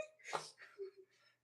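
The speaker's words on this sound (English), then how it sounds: "I gotta sneeze." One sharp, close sneeze bursts out near the start, followed by a couple of soft breathy exhales.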